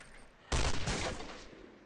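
A single loud rifle shot bursts out in the shooting video game Shooting World, then trails off in a long rolling echo over a quiet background.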